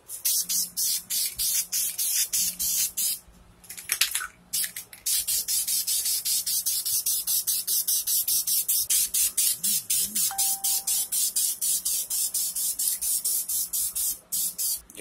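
A spray can lays a light coat of paint onto 305 engine cylinder heads in a long series of short, rapid hissing bursts, fairly close, briefly interrupted midway, with no talk.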